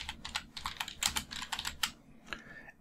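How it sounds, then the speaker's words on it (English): Rapid typing on a computer keyboard, a close run of crisp, uneven key clicks in short bursts with a brief pause before a few final taps. "Now they can type in the question if they have a question."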